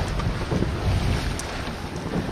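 Steady wind buffets the microphone on a sailboat beating upwind in about 11 knots with a reefed main, with a continuous rushing hiss and faint water wash throughout.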